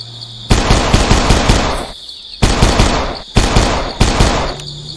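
Loud machine-gun bursts in the dinosaur survival game Dinosis Survival, fired at raptors in a nest, with three long rattling volleys separated by short pauses and no talk.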